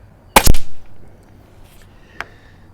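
An air rifle fires a single 15.4 grain Gamo Blue Bomber pellet, giving one sharp, loud, close crack with a short mechanical tail, and a faint click sounds shortly after.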